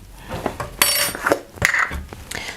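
Vegetables seasoned with smoked paprika, granulated garlic and ground black pepper being tossed in a bowl, giving several close, loud rustling scrapes and clatters in quick bursts.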